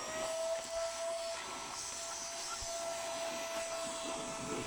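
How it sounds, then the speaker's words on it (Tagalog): A household vacuum cleaner runs steadily with a broad, hissing whoosh and a thin constant whine, holding at one level from start to finish with no talk. "Vacuum cleaner."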